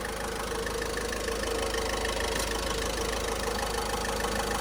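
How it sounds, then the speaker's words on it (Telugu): A 2016 Ford EcoSport Titanium Optional's original engine idles steadily and quietly with an even, continuous hum and faint rhythmic ticking, close by and unchanging, no voices. "ఇంజన్ చూడొచ్చు ఎంత సైలెంట్ ఉందో"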